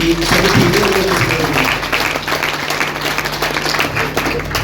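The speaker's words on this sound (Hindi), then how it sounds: "एक बार वो जोरदार तालियां सर के लिए" An audience at a health and wellness business presentation claps loudly and steadily, with a voice cutting through near the start.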